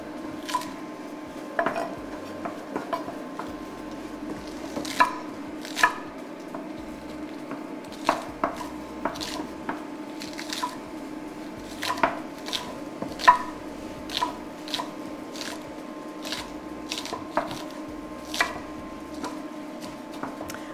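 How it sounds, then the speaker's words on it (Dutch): A knife chops onions on a board in a home kitchen while a dish of Combro is being made. The cuts are crisp, irregular taps spaced a second or two apart over a low, steady hum. "Ik ga ons uitjes snijden."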